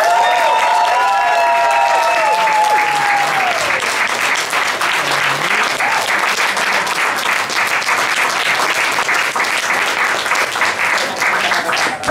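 Loud, sustained audience applause for a band at a talent-show year-end final in the Pool Garden, thick and continuous with some cheering. A fading musical tone lingers under the clapping at the start.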